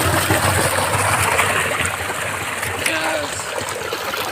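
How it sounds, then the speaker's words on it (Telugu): Rainwater streams steadily down a hillside in a forest, a continuous rushing wash close by with a few splashes, while a voice can be heard faintly alongside. "పైన కొండ మీద నుంచి వాటర్ వస్తూనే ఉన్నాయి"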